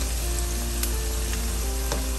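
Tomato paste hits hot oil with softened onions in a frying pan for paella. It gives a loud, continuous sizzle and crackle, with a few sharp spits popping through the hiss, close up.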